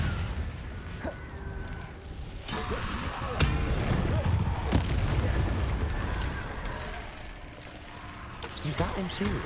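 Confringo spell blasts in Hogwarts Legacy, several loud booming bursts with rumbling tails among game effects, while a voice speaks over the action.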